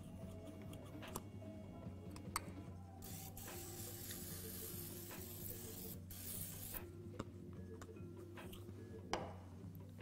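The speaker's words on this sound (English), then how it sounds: "we're just gonna spray this with a little bit of grapeseed oil" Grapeseed oil sprayed from a can onto a 13x9 baking dish in a home kitchen, heard as a few short hissing bursts over steady background hum, with no talk.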